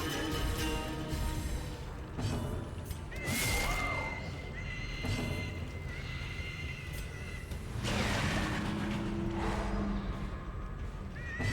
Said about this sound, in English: Pig noises are quite scary.